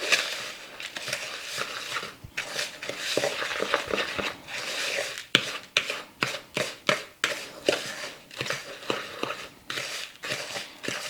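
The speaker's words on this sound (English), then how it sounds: "I'm going to stir this all up" Cracker crumbs are stirred with melted real butter in a bowl for a key lime pie crust, giving gritty crunching scrapes in an irregular, rhythmic run of close, moderately loud strokes.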